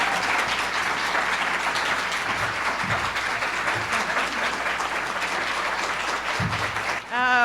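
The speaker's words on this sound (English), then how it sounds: "another round of applause for our panelists" Audience applauding panelists at a women's voting rights event, sustained dense clapping filling the room steadily from start to finish, loud and continuous, easing slightly near the end.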